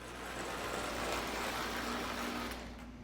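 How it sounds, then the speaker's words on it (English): A Lionel Scout toy train engine, freshly oiled, runs around a layout with a steady whirring motor hum and a rattling rumble that stays even, then eases slightly near the end. "I oiled the engine quickly and ran around the layout a few times."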